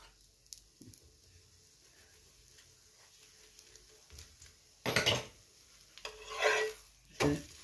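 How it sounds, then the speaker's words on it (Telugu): Methi paratha roasting with ghee on a hot pan: a quiet stretch, then a few loud, close bursts of sizzling and pressing or scraping toward the end. "ఇలా కాల్చుకోవాలి."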